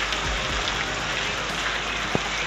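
Heavy monsoon rain pours down in Lucknow, a dense, steady broadband hiss of falling water without pause, loud and even, with no voices.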